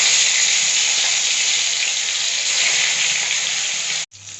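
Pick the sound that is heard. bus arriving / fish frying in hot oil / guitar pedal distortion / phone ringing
fish frying in hot oil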